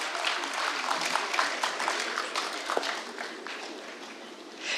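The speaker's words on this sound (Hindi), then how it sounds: "जोरदार तालियों से एक बार उनका इस्तकबाल किया जाए।" A crowd at a mushaira poetry gathering in Baradari, Ghaziabad applauds steadily, dense clapping holding for several seconds before tapering slightly toward the end.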